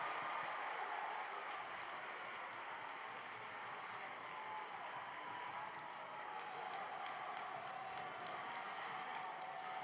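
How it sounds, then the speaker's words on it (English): Crowd at a college men's basketball tournament game making a steady, loud roar of cheering and clapping during free throws, a dense continuous wash of noise with scattered sharper claps and shouts. "the crowd is loud now"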